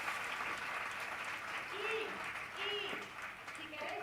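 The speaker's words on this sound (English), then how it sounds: "Let's have a big round of applause for Bakin," Audience applause at a tech summit, a steady patter of clapping heard faintly beneath a speaker's amplified voice.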